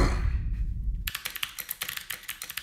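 Mechanical keyboard with an aluminium plate from 100 Thieves, typed on close up in a quick run of crisp, clacky keystrokes, following a brief muffled handling noise at the start.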